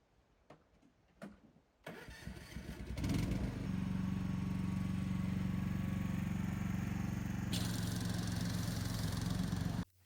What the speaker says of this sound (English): Did Dan modify our second-hand ride-on lawnmower to make cutting the grass easier?